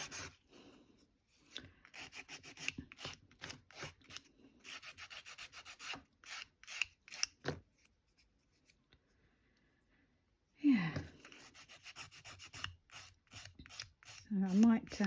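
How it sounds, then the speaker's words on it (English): Rhythmic rubbing strokes of hand sanding on small wooden pieces, close and fairly quiet, in bursts with a long pause midway. "you don't need to see me sitting here sanding all these"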